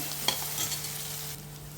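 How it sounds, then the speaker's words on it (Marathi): A faint, brief sizzle of ginger garlic paste frying in a pan, with a light scrape of stirring and a low electrical hum beneath. "आलं लसूण पेस्ट चांगलं भाजायचं"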